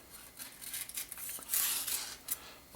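A freshly sharpened knife slicing through material with a brisk, hissing scrape, a couple of short bursts of cutting close at hand, the loudest stroke in the middle.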